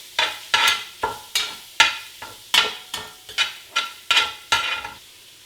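Italian sausage browning in a pan for Cajun shrimp and sausage jambalaya: a loud, close sizzle broken by a regular rhythm of about a dozen scraping stirs, each one flaring and then settling, with no talking.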